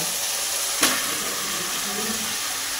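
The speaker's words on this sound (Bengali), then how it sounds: "মশলাটা কিছুক্ষণ তেলের সঙ্গে কষিয়ে নেবার পর যখন মশলা থেকে তেল ছেড়ে আসবে তখন এর মধ্যে দিয়ে দেব ম্যারিনেট করে রাখা মাংস" Marinated chicken dropped into spiced hot oil in a pan, one sharp impact followed by a steady loud sizzle that continues to the end.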